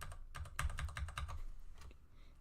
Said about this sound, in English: Let me try not to click on my keyboard too much.